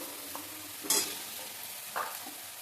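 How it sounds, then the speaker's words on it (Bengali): Ginger, cumin and chilli paste masala being stirred and fried in a pan, with two brief scraping bursts over a soft, steady background hiss; no talking. "এর মধ্যে আদা জিরা আর লঙ্কা বাটা রয়েছে মশলাটাকে ভালোভাবে আমি কষাবো"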